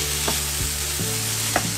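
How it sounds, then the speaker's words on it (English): Cabbage fries in a pan with a steady, fairly loud sizzling hiss over a low hum, with a couple of faint stirring scrapes and no talking. "So you wanna take your time and just fry it"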